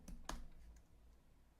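Computer keyboard keys tapped a few times, quiet close clicks, two sharper presses early and then a fainter one.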